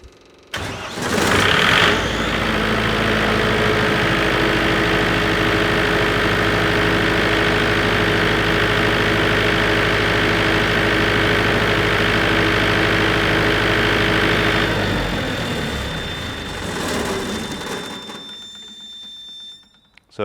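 A JCB generator engine cranks and catches, then settles into a steady, loud, even idle with a constant droning hum for about thirteen seconds before winding down and cutting off.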